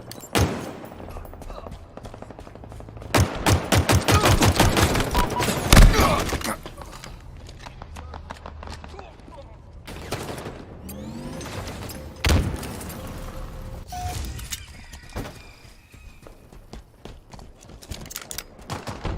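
Rapid gunfire in the video game Halo Infinite, loud automatic bursts and single shots trading back and forth in dense clusters, with thuds and game effects between volleys.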